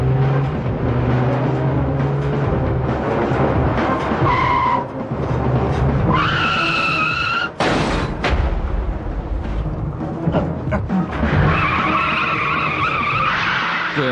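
Car chase with repeated tire skids and squeals over a revving engine, several sharp screeching bursts and a loud crash-like hit mid-way, racing car noise continuing throughout.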